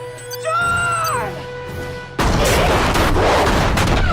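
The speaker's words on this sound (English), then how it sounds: "Many bombs." Loud explosions from the Fringe pilot episode: a tonal stretch of sweeping, falling sound gives way to a sudden massive blast, then a dense roar of crashing, rumbling debris that continues to the end.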